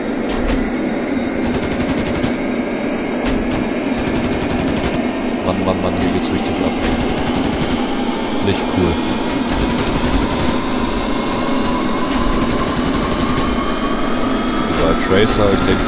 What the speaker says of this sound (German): Dann mal direkt den linken Motor starten.